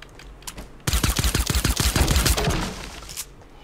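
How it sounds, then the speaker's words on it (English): Enemy automatic gunfire in Fortnite Battle Royale rattles in a fast burst of about fifteen sharp shots, loud and fairly close, then trails off into quieter game noise. "Is that him shooting at me?"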